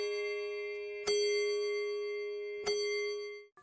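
Resonant clock chimes ring clearly, each stroke decaying slowly into the next, with a softer tone trailing at the end.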